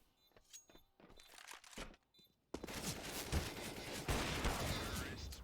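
Gunfire rings out in a Counter-Strike match on the Train map: a few sharp, spaced shots at first, then a dense, loud burst of firing and action noise that carries on to the end.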